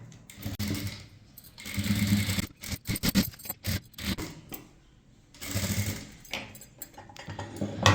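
A sewing machine stitches a cross piece on a blouse in short bursts of whirring with pauses between, close but fairly quiet, and faint handling noise in the gaps.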